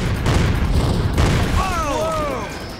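An explosive charge set off on Skinwalker Ranch makes a couple of heavy booming blasts at the start. Some ringing tones follow as the sound settles, with no speech.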